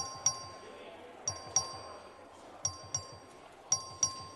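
A voting bell rung in the Texas House of Representatives chamber during a legislative session, sounding as repeated bright dings in irregular pairs over a low, murmuring room.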